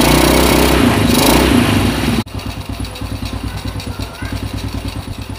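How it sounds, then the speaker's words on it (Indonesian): Honda Astrea Prima motorcycle engine catching on its electric starter, a loud whirring crank that cuts off sharply, followed by a close, rhythmic idling putter. "Cukup sekali pencet, starter langsung nyala."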